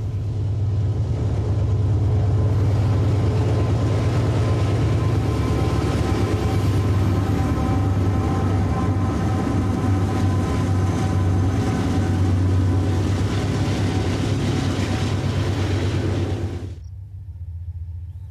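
Union Pacific diesel locomotives haul a coal train past farms and fields in rural Kansas, a loud, steady engine rumble and rolling drone that holds close for about sixteen seconds before cutting off abruptly.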